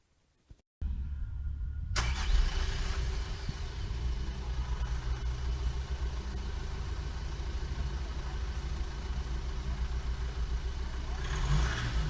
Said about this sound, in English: it sounds like a traditional diesel